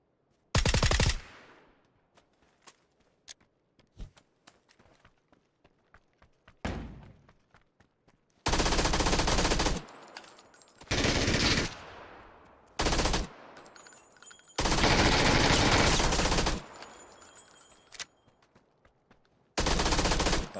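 MG3 machine gun fire in PUBG, several long loud bursts of rapid automatic shots separated by quieter gaps with a few isolated single reports.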